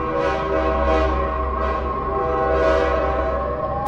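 Thomas.EXE steam train from a video game rolls along, a loud, sustained, whistle-like horn tone over a low rumbling engine drone.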